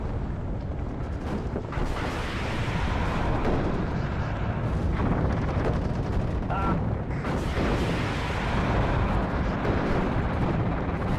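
Continuous artillery fire and explosions rumble through a WARNO real-time strategy battle, dense overlapping booms and crackle forming a loud, unbroken wall of combat noise.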